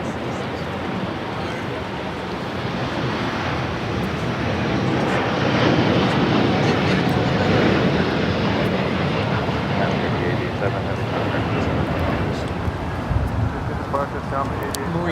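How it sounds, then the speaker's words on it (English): A LATAM Boeing 787 Dreamliner departs Los Angeles for São Paulo, its engine roar building to a loud, sustained rumble and then easing slightly, with a voice talking over it at times. "I got the Latam Dreamliner heading to Sao Paulo, Brazil."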